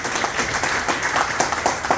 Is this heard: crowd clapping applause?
yes